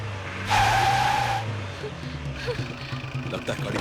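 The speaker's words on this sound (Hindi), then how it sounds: "लगता है गाड़ी फंस गई है।" A car stuck and spinning its wheels in a forest, with a loud squealing burst of revving and tire skid near the start, then a rougher engine rumble continuing under background noise.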